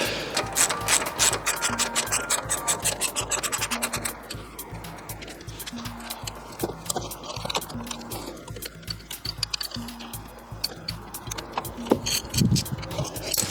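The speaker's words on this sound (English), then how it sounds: "Now we need to undo these 2 nuts in order for this bracket to come out so we can take the pads out." A hand ratchet working loose the two nuts on a car brake caliper bracket, with a fast, steady run of close metallic clicks that pauses briefly and resumes, no talk.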